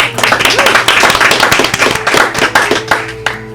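Audience applause for a performer, a recovering singer-songwriter, on a music show: brisk, close, fairly loud clapping from a modest group with a low steady hum beneath, thinning toward the end.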